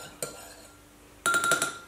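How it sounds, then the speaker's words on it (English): Spoon stirring tea with oat milk in a cup, with a brief clink early on, then a burst of quick rapid clinks and scraping against the cup toward the end, close and fairly quiet. "First of all, we must stir."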